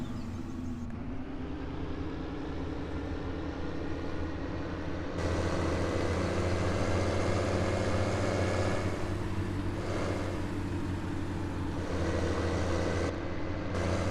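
A modded pickup truck idles in a video game, a low, steady engine drone with a constant throb. It grows a little louder and fuller partway through and carries on evenly with nothing else heard.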